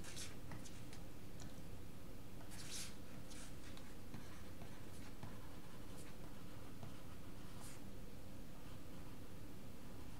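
Chalk or pen scratches across a board while an equation is written, a quiet series of short, irregular strokes and taps over a soft background hiss.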